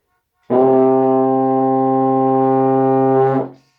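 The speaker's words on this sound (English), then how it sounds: "So the sound you really want is a C, which is this." A single sustained euphonium note, a C held steadily for about three seconds, rich and mellow, then cut off cleanly.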